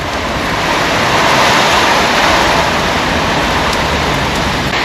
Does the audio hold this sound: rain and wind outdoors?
yes